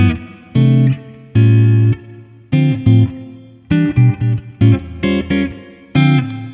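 Clean electric guitar chords strummed in a slow sequence, each ringing out clearly and evenly with no grit or distortion.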